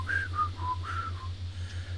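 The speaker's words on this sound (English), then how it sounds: "I hate it when people mindlessly whistle." A person whistles a short, aimless tune of five or so gliding notes, fairly soft and alone over a low steady hum.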